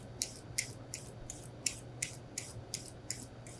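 Standard cucumbers are peeled quickly with rhythmic short scraping strokes, about ten crisp swipes at an even pace, close and fairly quiet over a low background hum.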